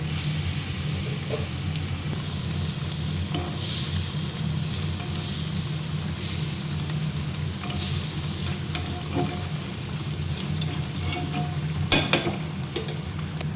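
A steady, bubbling sizzle of fish curry cooking in a pan as bhakua fish is added to the boiling gravy, continuous and moderately loud, with occasional light clinks of a utensil.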